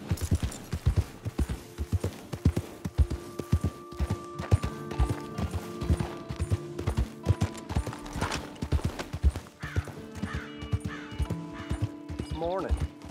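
Horse galloping in the video game Red Dead Redemption 2, a rapid, steady clip-clop of hooves close by, with a voice speaking over it and tonal game sounds layered beneath.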